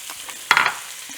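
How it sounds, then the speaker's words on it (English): Diced large white onion hits hot bacon fat in a pot, setting off a sudden loud sizzling burst that quickly settles into a softer steady fry. "I'm going to go in with 1 large white onion that I have diced up"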